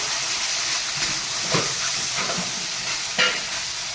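Pea paste and ginger paste frying in hot oil in a pan give off a steady, dense sizzle, with a few soft stirring scrapes rising briefly above the hiss; no voices.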